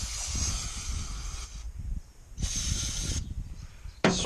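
A spray bottle gives light spritzes while trailer bearing races are cleaned: a few close, breathy hissing bursts separated by short quieter gaps, with no talk.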